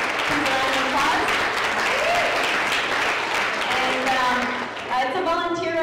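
Audience applause for the volunteers of a first community fundraiser, a sustained dense patter of clapping with a few voices and cheers mixed in, easing slightly near the end.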